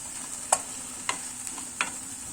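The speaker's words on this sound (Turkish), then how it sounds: "Dibine yapışmasın diye böyle ara ara karıştırıyorum" Onions being stirred in a pan while they cook without oil, with three or four distinct scraping strokes spaced about half a second apart over a steady soft hiss.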